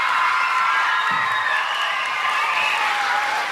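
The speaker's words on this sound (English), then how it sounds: "Let's give them a round of applause for being with us today" Sustained applause from a crowd at an elementary school ceremony, a steady wash of clapping that stays loud and even throughout with no voices standing out.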